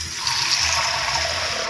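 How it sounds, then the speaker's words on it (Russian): Water pours steadily into a Turkish pumpkin dessert, kabak tatlısı, made with sugar and spices, giving a brief, even splashing hiss with no talking. "Наливаю сюда чуть-чуть воды."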